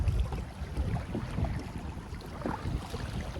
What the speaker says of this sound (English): This is almost like effortless paddling right now.